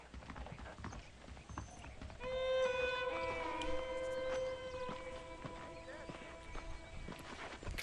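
Saddled horses in the Western video game Red Dead Redemption, with steady hoof clip-clops, a drawn-out whinny, and game music under faint background talk.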